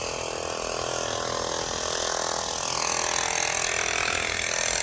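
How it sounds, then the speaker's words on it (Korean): Continuous construction noise from work next door, a steady mechanical grinding and whirring drone that holds throughout and grows slightly louder toward the end. "옆에서 공사를 해서 소음이 좀 있습니다"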